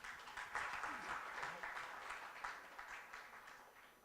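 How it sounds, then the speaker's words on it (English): Audience clapping at a management institute event in Mumbai, a steady wash of hand claps with some murmured voices mixed in, fairly even over a few seconds and moderately distant. "I think you can all clap on that."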